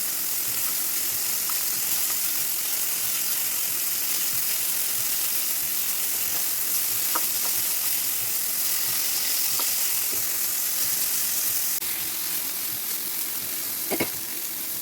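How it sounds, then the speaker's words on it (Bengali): Chicken for shawarma frying in hot oil in a pan over medium heat, a constant close sizzle with occasional sharp clicks as pieces are turned, no voices. "এখন চিকেনটা ভাজবো, শর্মার চিকেনটা ভাজবো।"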